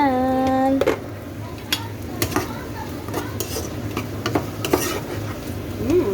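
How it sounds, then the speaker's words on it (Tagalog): Vegetables cooking in a pan, stirred with a utensil: repeated scraping clinks of metal on the pan over a steady sizzle, close and fairly loud. A short tonal beep sounds at the start. "Haling naman tayo at ipalutuin na naman natin yung gulay"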